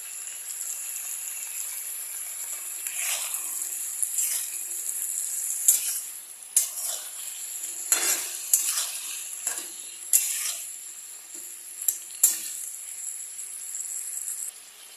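Ginger paste sizzling in a cooking pan of mixed vegetable curry, a bright steady hiss punctuated by sharp stirring scrapes and clinks, close up, with no talking.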